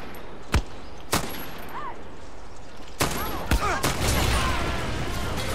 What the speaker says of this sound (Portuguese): você está atirando a queima-roupa no meu amigo Jacaroso?